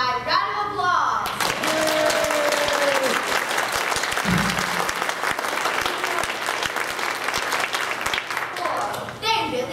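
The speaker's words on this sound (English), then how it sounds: "let me know by round of applause" Theatre audience at a Robin Hood play applauds steadily for several seconds, a dense loud wash of clapping with a brief voice at the start and faint chatter mixed in.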